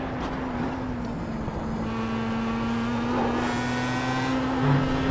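A Star Mazda race car engine in iRacing at Watkins Glen drones steadily and loudly, its pitch shifting slightly as the car brakes and changes gear, with no talking.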